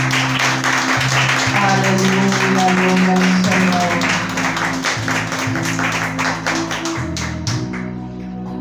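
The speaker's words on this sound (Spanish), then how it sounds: "¿Cuánto puedes brindarle un fuerte aplauso al Rey?" Congregation clapping in a loud, rhythmic burst during a Spanish-language church worship service, over sustained organ or keyboard chords, with a voice calling out praise before the applause fades toward the end.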